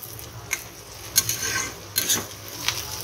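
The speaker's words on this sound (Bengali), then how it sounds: "এই যে এখানে উচ্ছে আলু ভাজাটা হচ্ছে, হয়ে গেছে, আর একটুখানি হবে" Bitter gourd and potato frying in a pan over a high flame, with a faint steady sizzle broken by a few sharp utensil clinks and scrapes as the pieces are stirred.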